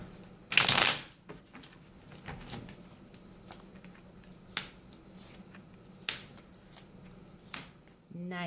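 Tarot cards shuffled and drawn on a table, a loud riffling burst followed by scattered soft flicks and snaps as single cards are laid down, close against quiet room tone.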